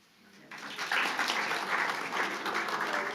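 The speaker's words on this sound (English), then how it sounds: "You're clapping for William Henry Ireland." A theatre audience breaks into applause after a dramatic Shakespeare-style recitation, clapping swelling quickly from a faint start to a steady, moderately loud ovation.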